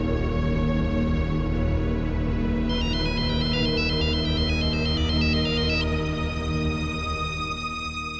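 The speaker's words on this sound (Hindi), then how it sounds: "मिस्टर खान तो हमार फोन कर दिए" A phone ringtone plays continuously, a melodic electronic ring repeating over steady background noise, with a brighter warbling tone in the middle.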